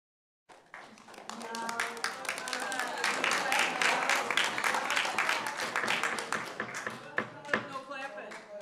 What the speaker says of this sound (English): Please, no clapping